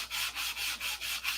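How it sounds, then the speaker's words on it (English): A sanding block rubs along the fuselage of a P-47 model, making five or six even back-and-forth strokes in a steady rhythm, close and fairly quiet, with no talk. "How to sand, how to hold a sanding block"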